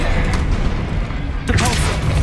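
A Confringo fire spell cast in Hogwarts Legacy on Xbox Series X, rumbling booms in the middle of combat, with a sharp fresh blast about halfway through.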